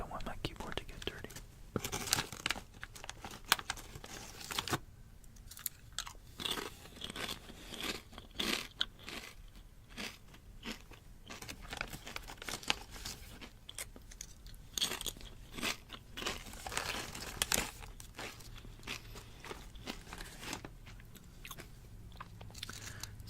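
Crunchy salty, oily snacks being bitten and chewed close to a keyboard, with repeated crisp crunches and chewing in an irregular rhythm throughout, and soft whispered talk in places.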